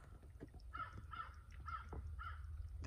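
A crow caws four times in a steady series outdoors by Kaw Lake, a fairly faint, somewhat distant call over quiet background noise.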